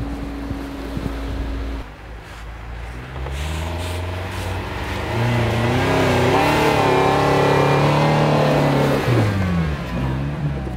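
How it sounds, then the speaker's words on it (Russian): An older-body Renault Duster with a 2.0-litre, 143-horsepower engine drives off-road in first and then second gear, its engine revving and climbing steadily and loud and close, with wind buffeting the microphone. "Сейчас катался Duster в старом кузове, 2 литра, 143 лошадиных силы. Сначала на первой скорости, потом на второй."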